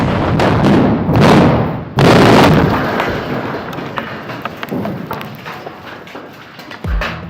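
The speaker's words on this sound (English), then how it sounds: "The explosive charges were reduced to protect the nearby retaining wall from vibrations. Nevertheless, the blasts are impressive." Reduced-charge explosive blasts in an access tunnel at a tunnel boring construction site: two heavy booming detonations in quick succession, followed by a long rumbling, crackling tail of falling debris and a last dull thud.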